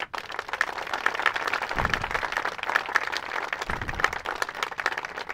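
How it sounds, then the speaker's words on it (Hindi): Applause from a group at a morning physical exercise session, a steady wash of clapping that stays moderately loud and even for several seconds with a few sharper claps. "जोरदार ताली।"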